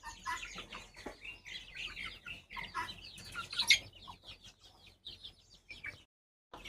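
Guinea fowl and chickens cluck and chatter in a busy, overlapping flock, with several sharp calls and a louder burst near the middle, close by, before the sound drops away at the end.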